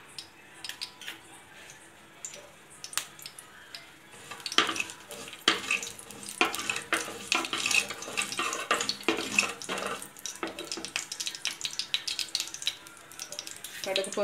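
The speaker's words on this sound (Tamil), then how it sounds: "வெந்தயம் கடுகு நல்லா பொரிஞ்சிடுச்சு" Mustard and fenugreek seeds spluttering in hot sesame oil in a pan, a dense run of close, crackling pops that grows louder and busier after the first few seconds.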